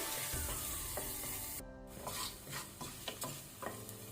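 Garlic frying in a pan over low to medium flame for dal tadka, a soft continuous sizzle with intermittent scraping strokes of a spoon stirring, fairly quiet and close, no talking.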